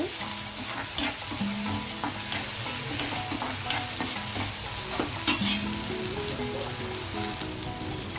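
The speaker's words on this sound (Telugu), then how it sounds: "నేను ఇందులోకి అల్లం వెల్లుల్లి పేస్ట్ ఒక స్పూన్ వేస్తున్నాను" Ginger garlic paste sizzles and fries in a pan for a shrimp and cauliflower curry, with a steady close crackle and repeated scraping stirs throughout, no voices.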